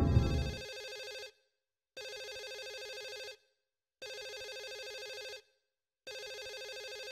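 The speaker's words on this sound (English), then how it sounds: "Oh, there's a phone ringing somewhere." In the video game Silent Hill 4, a telephone rings in steady electronic bursts with short silences between them, a low thump at the start, and no voices.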